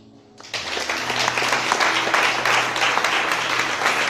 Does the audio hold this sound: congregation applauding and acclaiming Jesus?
yes